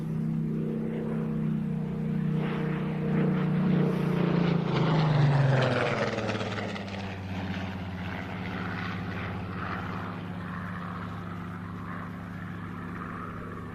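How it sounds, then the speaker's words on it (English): Rolls-Royce-engined Spitfire arriving at an air show, its piston engine droning loud and close, then gradually fading into a steady distant hum over about fourteen seconds, with no voices. "Spitfire Rolls-Royce."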